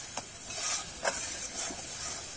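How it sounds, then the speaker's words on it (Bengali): A mustard and green chili paste sautéing in a pan, with a soft continuous hiss and sizzle and a few faint scraping stirs, quiet and close. "এবারে ভালো করে কষিয়ে নেব"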